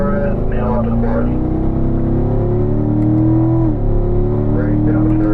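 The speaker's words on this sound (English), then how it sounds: "Stay in third, wait for it, nail up to fourth." A race car accelerates hard on a track in third gear, its loud engine note climbing steadily before a brief dip as it shifts up to fourth, then it pulls on again close and continuous.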